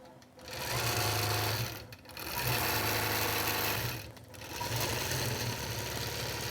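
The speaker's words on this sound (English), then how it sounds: "the machine stitches through this Peltex" A Statler quilting machine stitches through Peltex, making a steady mechanical whirring hum in three sustained runs separated by brief pauses, close and fairly loud with no talk over it.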